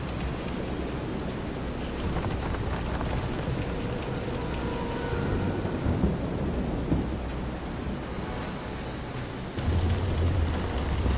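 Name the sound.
thunderstorm with rain in video game Visions of Mana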